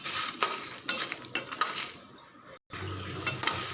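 Spices and curry leaves dry roasting in a pan over low heat for fish curry, stirred with a spoon: quiet scraping strokes and light clinks in an uneven rhythm, briefly pausing near the end.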